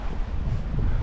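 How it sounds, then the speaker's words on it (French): Wind buffets the microphone aboard a Liberty sailboat in about ten knots of breeze, a loud, continuous low rumble with no let-up. "Il y a 10 nœuds de vent"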